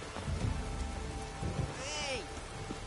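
Rain falling in The Witcher 3: Wild Hunt, a steady patter on surfaces under a soft low rumble, with a brief whooshing swell partway through.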